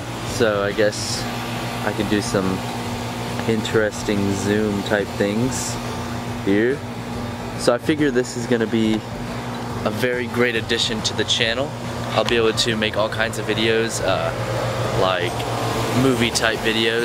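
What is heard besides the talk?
air conditioner running outside in backyard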